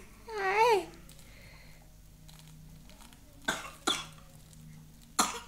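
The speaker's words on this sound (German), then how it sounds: "Die Horde mit den Husten." A cluster of coughs and throat-clearing from a small group: a voiced rasping cough first, then several sharp, separate coughs scattered over a few seconds, close and moderately loud against a quiet room.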